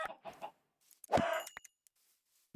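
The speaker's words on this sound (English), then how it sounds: "Oh, sweet, there's more chicken." Blocky chickens cluck in the Minecraft video game during a hardcore survival run, a few short clucks followed by a louder burst and scattered clicks, with quiet gaps between.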